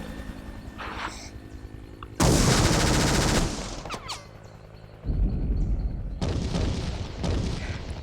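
Loud bursts of rapid gunfire, a sustained volley followed by a pause and then more rattling shots continuing to the end.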